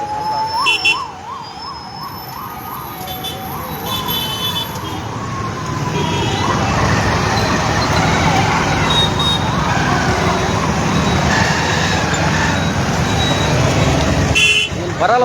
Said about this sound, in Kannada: ಆಂಬ್ಯುಲೆನ್ಸ್ ಈಗ ಬಂದು ಬೇರೆ ಕಡೆ ಹೋಗ್ತಾ ಇದ್ದಾರೆ ಅವರು.